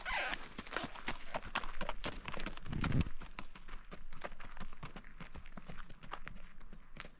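A horse trots on a trail ride in Colorado, its hooves clip-clopping in a steady, even rhythm for the whole stretch, close and fairly loud, with a brief louder thump partway through.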